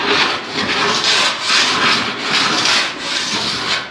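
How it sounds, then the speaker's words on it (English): Metal file drawn across a warped steel car body panel after welding on a 1940 Ford-inspired build, loud close rasping in about five long, even back-and-forth strokes. "Now another thing you can do is take a file"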